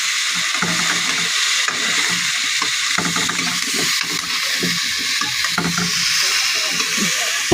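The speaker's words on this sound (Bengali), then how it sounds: "এবার একসাথে নেড়ে চেড়ে নিচ্ছি।" Spoon stirring rui fish curry with carrot, potato and turmeric in a hot pan, a steady close sizzle with repeated scraping strokes and no talk.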